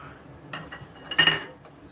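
A spoon scraping and knocking against a bowl while grated potato is mixed with cornflour, a few soft taps followed by a brief louder clatter, close and otherwise quiet.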